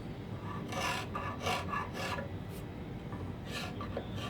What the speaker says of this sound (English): the wood is marking on the hard parts because the scraper isn't cutting as deep